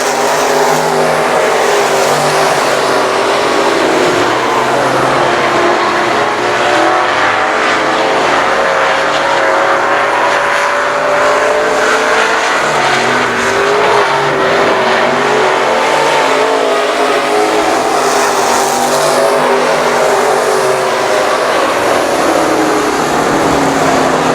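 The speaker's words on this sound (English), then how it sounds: "One lap left for Anthony Gordon here." Race cars circling the I-37 Speedway track on the final lap, engines roaring continuously and loudly as they pass, with revving surges and a hint of tire noise, no talking.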